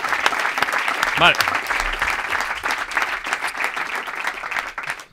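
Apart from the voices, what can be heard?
audience applause in a TV studio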